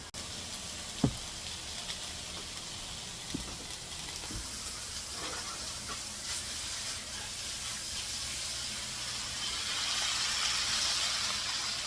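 Zucchini cooks in a pan on a stovetop while ratatouille lasagna vegetables are prepared, giving a steady broadband sizzle and hiss that swells slightly near the end, with a few faint knocks from utensils against the pan.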